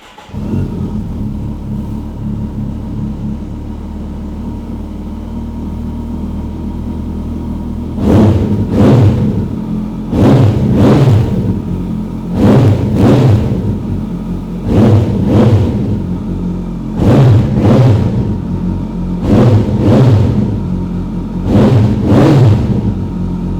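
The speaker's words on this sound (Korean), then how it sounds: "아크라포비 머플러의 배기 사운드 한번 들어보고요" A 2018 Kawasaki GTR1400 touring motorcycle with an Akrapovic muffler idles close by with a low burble, then gives about eight sharp throttle revs in a steady rhythm, each swelling and dropping back to idle.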